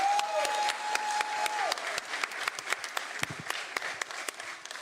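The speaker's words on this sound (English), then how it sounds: "round of applause for Kai Cenat" An audience applauds at a live streamer-economics show, with dense, steady clapping from a crowd that holds through the whole stretch before slowly thinning out, with a faint tone early on.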